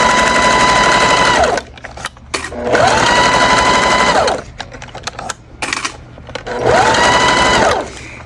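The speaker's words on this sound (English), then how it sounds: "I'm going to sew these together with 1/4 inch seam allowance" A sewing machine stitches thick vinyl bag pieces with a quarter-inch seam, running in three steady, loud whirring bursts separated by short pauses.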